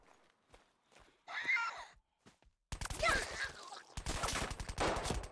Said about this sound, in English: Oh, wow! That was a gunshot.